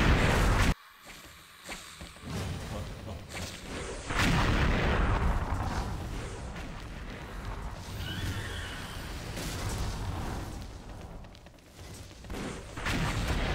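Bazooka rounds fired in the shooter game XSHOT, heavy booming blasts with rumbling tails that repeat irregularly through a dense, noisy stretch of gameplay, loud and close.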